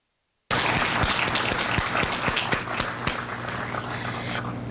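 Loud, continuous applause with cheering from a crowd of supporters at a senior center farewell and groundbreaking ceremony, dense clapping starting abruptly after a brief silence and sustained throughout.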